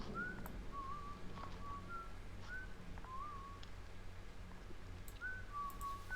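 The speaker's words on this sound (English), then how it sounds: "I am whistling loudly to give away my position" Loud melodic whistling from a person, short two-note phrases repeated at intervals over a steady outdoor background hum.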